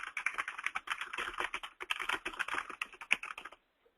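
Rapid typing on a computer keyboard during data entry, a dense run of close key clicks that stops abruptly near the end, no speech.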